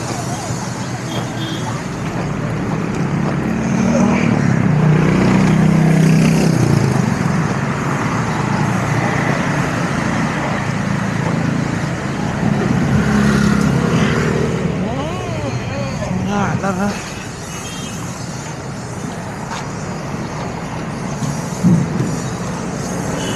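A water tanker truck pulling up and idling, its engine a steady low rumble that swells and eases over the whole stretch, with people talking nearby over it outdoors.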